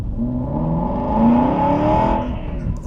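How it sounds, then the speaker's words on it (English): Aston Martin V8 Vantage engine rumbles on a damp day, a deep throaty drone swelling briefly in the middle then settling, close and without talk. "Listen to that sound straight away though, that V8 rumble"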